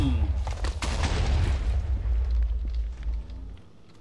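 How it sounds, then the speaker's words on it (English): A loud explosion in the Minecraft video game, a deep sustained boom with rumbling debris that fills the clip and slowly fades near the end. "Explosion!"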